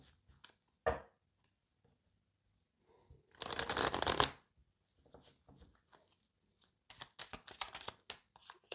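Oracle cards shuffled during a French tarot-style reading, heard as a sharp riffle burst of about one second, then a longer run of quick papery flicks near the end, with near silence between.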